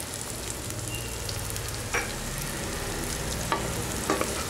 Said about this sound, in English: fry this for 1 minute, and now add some curry leaves to it.